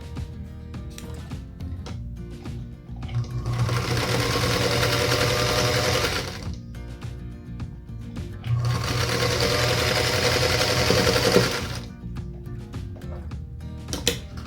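A sewing machine runs in two sustained bursts of stitching on a 9 patch star quilt block with a quarter-inch seam, loud and close, separated by a short pause with light handling noise.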